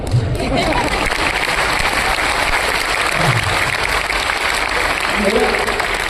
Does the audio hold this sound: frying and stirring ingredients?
no